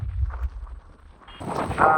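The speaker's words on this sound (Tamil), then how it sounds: "பயங்கர காற்று அடிக்குது" Strong wind blows on the Sri Lankan coast near a catamaran, buffeting the microphone in low rumbling gusts that swell into a louder, hissing blast toward the end.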